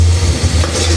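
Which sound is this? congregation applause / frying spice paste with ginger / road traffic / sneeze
frying spice paste with ginger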